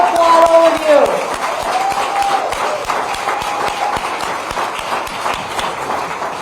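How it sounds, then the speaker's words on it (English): Crowd applause at an election night speech for the Spokane mayoral race, a dense, steady wash of clapping that runs the whole time, with a voice briefly heard over it at the start. "I'm going to applaud all of you."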